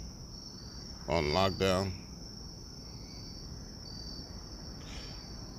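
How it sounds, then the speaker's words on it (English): Crickets chirp in a steady, faint high-pitched drone through the whole stretch during late summer outdoors, with a short burst of someone talking partway through. "I used to hear these crickets early in the season."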